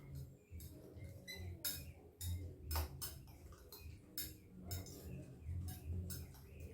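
Egg and vegetables being mixed with a utensil for a Spanish omelette, giving quick, irregular metallic clicks and taps against a bowl, fairly close over a low background hum.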